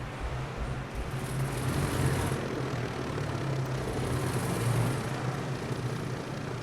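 The engine of a Dornier Do J flying boat in Microsoft Flight Simulator 2020 on Xbox Series X, running as a steady, full propeller drone that swells slightly, with no talking.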